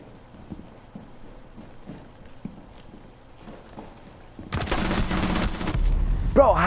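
Video game gunfire: a quiet stretch of faint taps gives way to a sudden loud burst of rapid shots that keeps going until the end, close and harsh.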